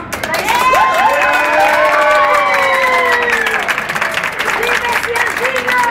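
An audience claps and cheers, with lively applause mixed with shouting voices and children's high calls, loud and close, and voices rising above the clapping.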